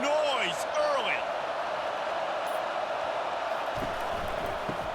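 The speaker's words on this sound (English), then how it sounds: "This crowd bringing the energy and noise early." Stadium crowd roar in the College Football 25 video game at a Rutgers Scarlet Knights vs. Nebraska Cornhuskers matchup, a steady loud wash of fans that runs the whole time, with a brief thump near the end.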